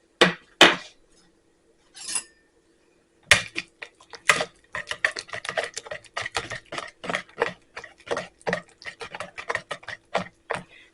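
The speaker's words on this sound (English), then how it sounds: "I'm going to switch to a whisk." A whisk beats real butter and a brown sweetener in a bowl for gluten- and dairy-free banana nut bread, making rapid, rhythmic metallic clicks close up after a few separate taps.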